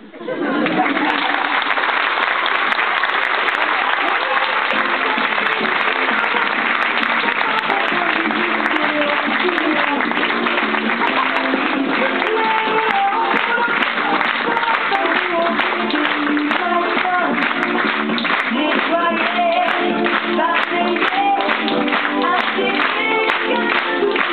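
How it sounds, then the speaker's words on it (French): Audience applause after an amateur theatre play by young performers, a dense steady wash of clapping that holds at a loud, even level for the whole stretch, with a murmur of voices beneath it. "Applaudissez, n'est-ce pas, tous ces jeunes qui sont pleins de talent."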